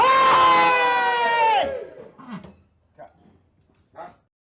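A small group of people at a casual podcast-style discussion breaks into a loud, sustained cheer and whoop for about a second and a half, followed by scattered laughter and brief talk.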